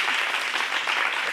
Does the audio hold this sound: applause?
yes